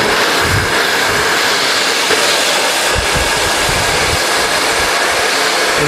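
A hair dryer blows steadily and loudly during a razor/feather haircut blow-dry, a continuous rushing whoosh with slight flutters as it moves, no talking.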